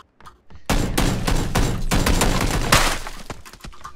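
Gunfire in a shooter video game: a loud, close, sustained burst of rapid shots lasting about three seconds, following a few brief sharp clicks and thuds.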